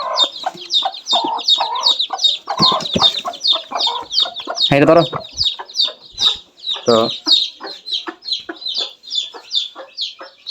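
Chickens cluck in close, rapid, repeated bursts throughout, with a few louder squawks and brief human speech mixed in.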